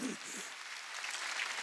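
A church congregation at a Wednesday worship service claps, faint and diffuse, with low voices or music murmuring underneath for a brief moment.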